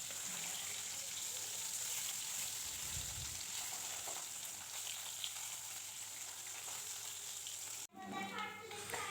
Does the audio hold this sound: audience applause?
no